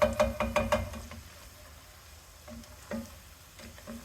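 Onions fry in a pan for Southern-style curried chicken, a soft sizzle broken by quick clusters of utensil knocks and stirring taps near the start and again toward the end, close and without voices.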